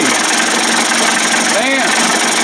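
A 25 hp Johnson outboard engine idling, a loud steady mechanical churn, with a voice briefly heard over it.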